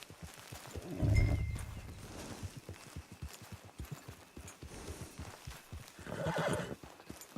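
Horse whinnies loudly near the one-second mark while steady clip-clop hoofbeats walk throughout, with a second neigh rising later, in the Red Dead Redemption 2 game world at a camp.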